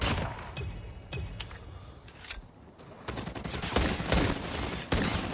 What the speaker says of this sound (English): I'm gonna just flick out the handgun every now and again and try to use it as the close quarters weapon